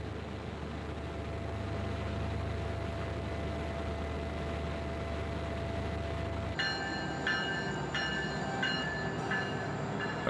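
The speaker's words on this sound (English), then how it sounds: "A train from Anchorage arrives once a day." A passenger train from Anchorage arriving at Talkeetna station in the Alaskan foothills, a steady loud rumble of rolling cars with a low engine drone that gives way to squealing, screeching wheels and brakes as it slows, with no voices.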